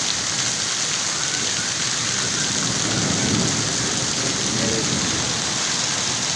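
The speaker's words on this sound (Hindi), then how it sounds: "मौसम खुशगवार हो चुका है और बारिश तेज़ी से जारी है।" Heavy rain pours steadily in the city of Attock, a dense, continuous hiss with a low rumble of thunder swelling midway, loud and close throughout with no voices.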